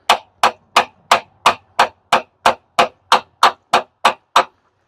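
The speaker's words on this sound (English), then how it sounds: "using my socket, my ball peen hammer, I just want to carefully drive those in nice and straight" A ball peen hammer strikes a socket to drive freeze plugs into a Jeep 4.0 engine block, giving thirteen sharp, evenly spaced metallic taps, loud and close, with nothing else heard.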